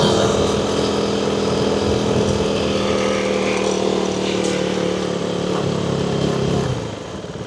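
A KTM Duke 390 single-cylinder motorcycle engine revs hard as the rider downshifts, loud and close, holding a steady buzzing drone before the pitch drops and fades near the end.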